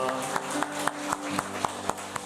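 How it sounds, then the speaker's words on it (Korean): A church congregation claps together in a steady, even rhythm, with sharp regular beats over a soft sustained tonal backdrop. "우리 하나님께 감사의 박수 올려드리겠습니다"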